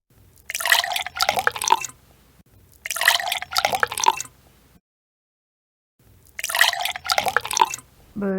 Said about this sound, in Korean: 물 따르는 소리.